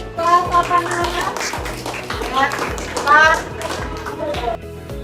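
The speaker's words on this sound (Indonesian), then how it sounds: "Ya, tepuk tangan untuk papan anak." Group of children clapping for a children's group in a classroom lesson, a steady patter of many hands mixed with lively kids' voices and chatter throughout.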